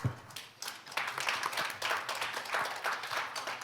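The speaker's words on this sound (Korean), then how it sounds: "큰 박수로 환영해 주시기 바랍니다." An audience at a Korea-US foreign affairs and security seminar applauds, a steady patter of many hands clapping at moderate volume that holds evenly from start to end.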